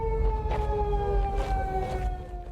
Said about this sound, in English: And what's that siren? Is that police?